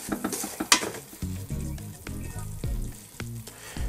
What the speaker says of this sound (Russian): Вот видите, как сахар карамелизуется?